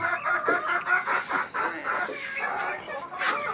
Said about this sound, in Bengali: মুরগিকে আসলে খাবার খাচ্ছে, আমি সকালবেলা এসে মুরগিগুলোকে খাবার দিলাম